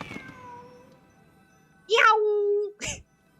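A pet cat lets out a loud, drawn-out meow followed by a brief chirp, close and clear, after a softer trailing call at the start and then silence.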